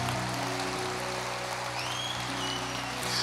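Congregation at a church service applauding, a continuous, evenly spread patter of many hands clapping that sounds almost like rain, with faint musical tones beneath and no speech on top.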